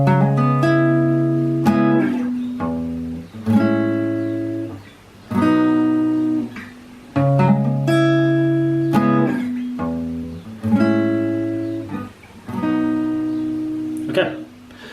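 An acoustic-toned guitar plays the bridge of a song, chords strummed and let ring in repeating phrases with short gaps between them, clear and close with no talking.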